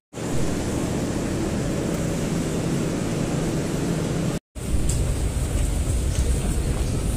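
Train from Bandung arriving at Gambir station in Jakarta, a steady loud rumble of wheels and carriage noise throughout, with a short drop-out partway before the roar resumes.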